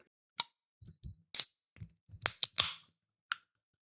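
Can of Ciao Energy drink being opened up close, heard as a quiet series of separate sharp clicks, taps and a crisp snap-hiss of the tab, each short burst with silence between.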